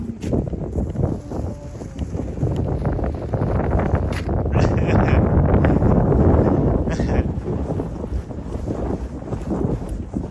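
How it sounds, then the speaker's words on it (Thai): Strong gusty wind blows outdoors while a large Thai Chula kite is flown in England, a loud, steady buffeting roar that swells toward the middle and stays constant throughout. "แรงจริงๆครับลม"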